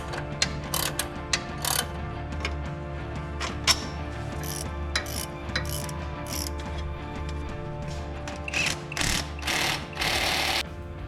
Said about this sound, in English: this upper one we have to hold with an Allen wrench and tighten the nut